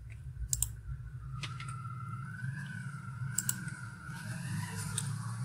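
A computer mouse gives a few sharp, faint clicks while images are selected, spaced irregularly over a quiet low hum, with no voices.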